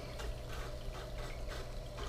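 Steady water flowing and trickling across a Black Scorpion gold sluice table outdoors, a continuous close rush of liquid without pauses and no talking.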